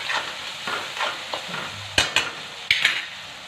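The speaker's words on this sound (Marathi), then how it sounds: "कमी गॅसवरतीच मी हा टोमॅटो शिजवून घेतलेला आहे" Tomato cooking in oil over a low gas flame gives a faint sizzle. Stirring strokes scrape through it, and several sharp metallic taps of a spoon against the pan come near the end.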